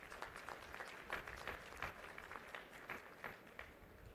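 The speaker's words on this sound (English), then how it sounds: "So a big round of applause to all of you." Graduating students and medal winners are applauded at a university convocation ceremony, with a moderate crowd clapping in loose, uneven bursts heard from some distance at low volume.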